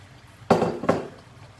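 Sauce hits a hot pan of onions for a Filipino beef steak, giving two short, sharp sizzling bursts a moment apart, each settling into a softer hiss, close by with no talking.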